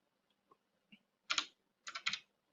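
Keys are tapped on a computer keyboard to type a bag number into a blood bank records system: a few sparse single keystrokes, then two quick clustered bursts, close and clear with no speech.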